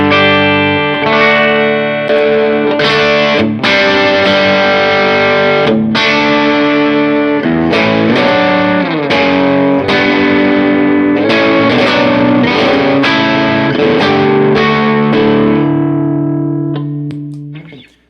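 An electric guitar played through a pedalboard with the Mystic Edge overdrive switched off gives a series of ringing chords and notes with effects and reverb, strummed continuously for about seventeen seconds before fading out.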